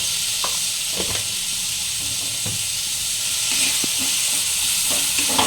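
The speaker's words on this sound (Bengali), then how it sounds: "এখানে আমি টমেটোটা দিয়ে দিচ্ছি, একটু নুন, 1/2 চামচের মতো নুন।" Tomatoes and salt sizzle in a hot pan for a snail masala curry, a steady frying hiss with occasional soft stirring clicks.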